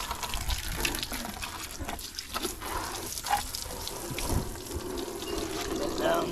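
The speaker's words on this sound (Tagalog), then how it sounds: "spray lang ng tubig para matanggal yung mga buhangin." Water sprayed from a hose or tap to rinse sand and dust off a surface, a steady broadband hiss and splash running throughout, with occasional faint voices in the background.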